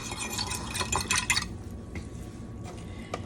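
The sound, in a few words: stirring Jello mixture in a bowl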